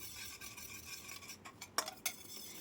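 A spoon stirs rava into green gram halva in a pan, with soft scraping and a few sharp metallic clinks against the pan near the end.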